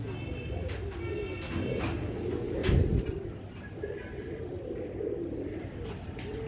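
Dub wali pigeons, including a female, coo in low repeated throbbing calls close by, with a soft thump partway through and faint background noise throughout.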